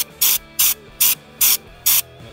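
Five evenly spaced bursts of hiss come from a spray gun applying Raptor liner coating to a full-size pickup truck, each lasting about a quarter second, loud and close, with a faint mechanical hum between them.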